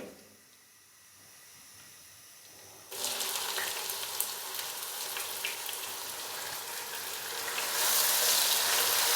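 Chopped onion hits hot oil at about three seconds and bursts into a loud, steady sizzle and hiss that keeps going and swells slightly near the end, with no talk, after a quiet opening.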